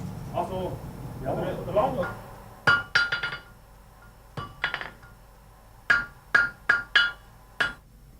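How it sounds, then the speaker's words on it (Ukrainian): A farrier working at a monastery strikes metal with a hammer: sharp, ringing blows arrive in short clusters of two to five, close and fairly loud, after a stretch of talking at the start. "Він кує коней, а також дбає про залізне начиння будівель."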